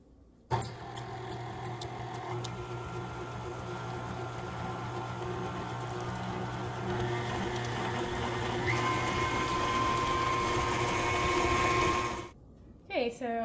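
An electric mixer whips neutral oil and other ingredients for drop sugar cookie dough: a few sharp clicks as it starts, then a steady, close whirring drone that holds for about twelve seconds before cutting off.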